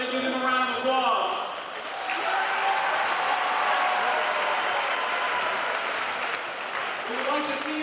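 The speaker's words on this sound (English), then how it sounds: "Everybody give them a round of applause." Crowd applause fills a school gymnasium at a football pep rally, a steady broadband wash of clapping and cheering that holds for several seconds at moderate loudness, with a voice on the public-address system audible at the start and end.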